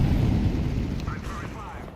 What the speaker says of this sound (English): Throwing fire. Molotov.